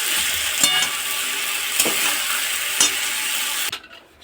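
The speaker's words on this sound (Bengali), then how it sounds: "সেদ্ধ হওয়ার জন্য জলটা দিয়ে দিলাম।" Water poured into a pan of potatoes and cauliflower being cooked with spices, giving a steady broad hiss and sizzle with a few sharp clatters, then cutting off abruptly near the end.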